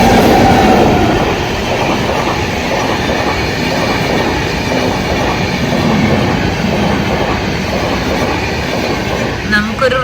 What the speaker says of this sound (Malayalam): സോറോ ട്രെയിൻ ഇപ്പൊ വരും.